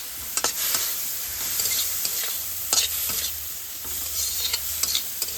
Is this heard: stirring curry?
yes